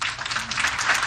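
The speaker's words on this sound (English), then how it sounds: "we don't need the applause each and every time" An audience at a city planning commission meeting claps in a short, steady burst of applause that stays moderately loud for about a second.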